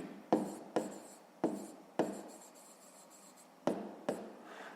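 A pen writes on paper during a sixth-grade math exercise, several close scratchy strokes, each starting with a sharp tap and trailing off, in short separated bursts.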